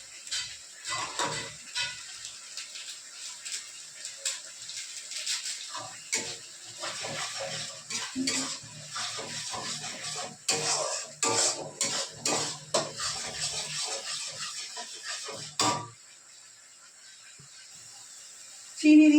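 A spatula scrapes and stirs spice masala of coriander powder and Kashmiri chili powder frying in oil in a pan, with irregular soft metallic scraping and clinks at a quiet level.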